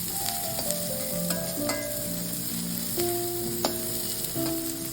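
Onions sautéing in oil in a pan give a steady close sizzle, with tonal whistles and hums running underneath and a few sharp scrapes of stirring. No one speaks.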